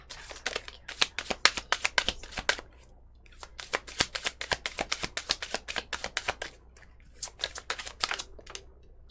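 Oracle cards are shuffled and handled up close in a quiet room, giving rapid bursts of crisp flicking and riffling that pause briefly and then resume, with no voice over them.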